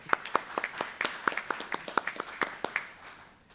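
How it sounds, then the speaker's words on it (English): Audience applause at a law enforcement training graduation ceremony in Clearfield County: a few seconds of scattered, crisp hand claps at a moderate distance that thin out and fade toward the end, with no talking. "and for that, we applaud you."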